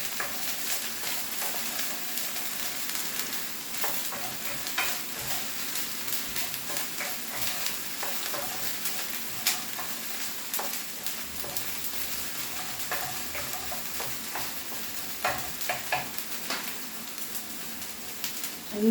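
Garlic fries in a pan with a continuous crackling sizzle, broken by frequent clicks and scrapes of stirring, close and fairly steady for the whole stretch.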